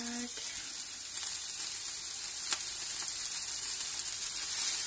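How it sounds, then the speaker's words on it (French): Cassava sticks and vegetables sauté in a hot pan, making a steady, soft, even sizzle that continues without a break, with no talking. "je laisse le mélange se dorer"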